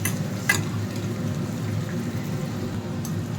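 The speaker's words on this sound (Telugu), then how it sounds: "తాలింపులు వేయించుకుందాం ఈ విధంగా చూడండి" Peanuts and tempering spices fry in oil in a pan, an even, dense sizzle and crackle with a couple of brief sharper pops.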